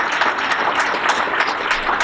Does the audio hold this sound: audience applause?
yes